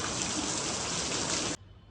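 Rain pours down in a loud, steady hiss that fills the air evenly, then cuts off abruptly near the end into near silence.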